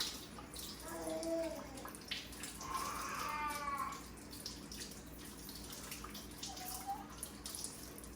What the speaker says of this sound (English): And then you're gonna rinse it off.